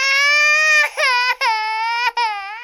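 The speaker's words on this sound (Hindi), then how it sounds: "यह आवाज तो बच्चे की रोने की है।" An infant wails in long, loud, close, high-pitched cries broken by a few short catching breaths between sobs.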